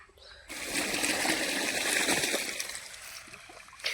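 Water pumped by a motor from a well gushes into a storage tank, a loud continuous splashing rush that starts abruptly and then eases toward the end, close by and without talk.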